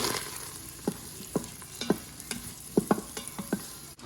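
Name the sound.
shallots frying in a pan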